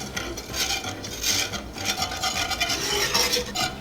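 A whisk scrapes rhythmically through a gravy roux with seasoning in a pan, making a close, steady swishing and rasping that pulses in quick strokes.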